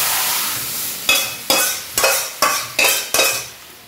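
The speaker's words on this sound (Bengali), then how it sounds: "আমি এই তেলেই হলুদটা দিয়ে দিচ্ছি। হলুদটা একটু ভাজা হবে" Turmeric frying in oil, a soft background sizzle broken by five or six sharp rhythmic scrapes of a spoon against the pan, close and fairly loud.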